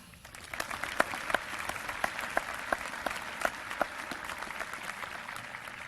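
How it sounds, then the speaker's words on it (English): Applause from a crowd at a high school graduation ceremony, honoring the student speakers: dense, steady clapping with a few sharper individual claps standing out, sustained at moderate loudness without any talk. "Let's clap for them one more time"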